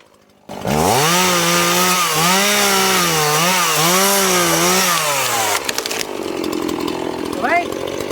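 A chainsaw cuts pine wood in the Sierra de Cazorla, the engine loud and close as it whines and wavers through about five seconds of cutting, then drops to a rougher idle.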